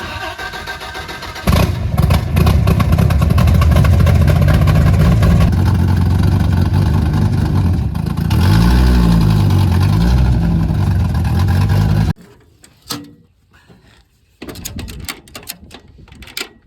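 A wrecked Gen 2 Dodge Viper GTS with a 510 stroker engine and CPE twin turbo kit, tuned to around 1200 horsepower, runs loud and rough at close range, then cuts out briefly and stutters back in bursts.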